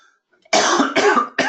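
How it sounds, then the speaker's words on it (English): Two sharp, close coughs in quick succession, with the start of a third, following a moment of near silence. "An annoying cough."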